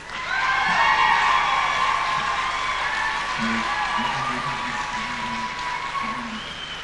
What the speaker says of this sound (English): So can you give him a big round of applause,